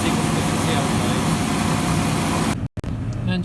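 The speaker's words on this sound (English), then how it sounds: "Engine speed's going up and down." A Rover V8 in an SD1 idles steadily with its speed drifting up and down, a close, continuous engine drone that cuts out briefly near the end before resuming more quietly.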